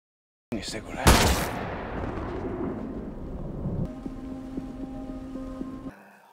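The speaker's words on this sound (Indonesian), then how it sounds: "Tanpa basa-basi, Sakata langsung menembak Fujita" A loud gunshot from a Japanese mafia film cracks out and rolls into a long, booming reverberant tail, followed by a low sustained drone that fades near the end.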